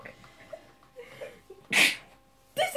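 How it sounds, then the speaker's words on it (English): A girl sneezes loudly and close once, after quiet background noise with faint voices and clatter from a homeschool lava lamp making session, followed by another burst of sound. "Oh, it's okay, I'm sneezing."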